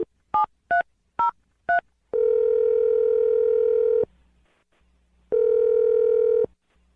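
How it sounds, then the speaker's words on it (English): A telephone on a radio prank call: four quick keypad DTMF beeps, then two long steady tones separated by a short pause, sounding clean and close with no talking. "We're going to dial the phone number right now"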